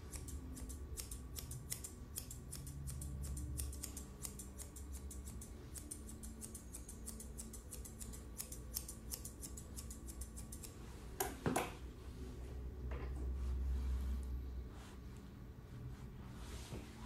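Scissors trim the face fur of a Shih Tzu in a rapid series of close, crisp metallic snips, with a short pause and a few louder clicks partway through.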